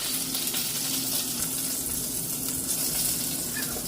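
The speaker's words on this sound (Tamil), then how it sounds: "அதே எண்ணெய்க்குள்ளே வெட்டி வச்சுருக்கிற கத்திரிக்காயையும் ஆட் பண்ணி கொஞ்சம் பொரித்து எடுக்கிறேன்" Cut eggplant pieces fry in hot oil with a dense, continuous sizzle, close and steady throughout with no voices.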